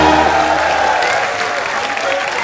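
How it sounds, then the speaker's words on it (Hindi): A studio audience on a TV comedy show claps steadily and loudly for a few seconds, with a dense patter of many hands and faint voices underneath. "जोरदार तालियां।"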